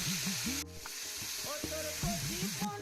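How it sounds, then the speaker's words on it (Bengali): A spice paste goes into softened tomato in a pan for a parshe fish dish, hissing and sizzling up close while a few stirring strokes sound through it. "ঠিক এই সময় দিয়ে দেবো ওই গুলে রাখা মশলাটা"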